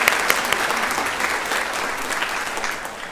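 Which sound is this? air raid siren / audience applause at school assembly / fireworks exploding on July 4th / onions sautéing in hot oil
audience applause at school assembly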